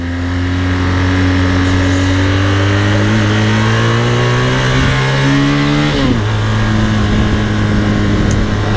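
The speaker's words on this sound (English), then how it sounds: "This is so much a fun motorcycle, man." A BMW S1000RR sport motorcycle engine revs up steadily, its pitch climbing for several seconds before dropping sharply and settling into a lower roar, loud and close.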